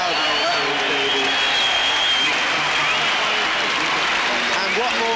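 A football stadium crowd applauds Bobby Charlton's farewell at his final Manchester United game. Dense, continuous clapping and cheering fill the space, with a commentator's voice faintly audible underneath.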